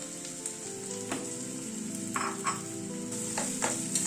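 Lentil paste frying with onion and garlic in a pan makes a steady close sizzle, with a few scrapes and knocks from stirring and no voices.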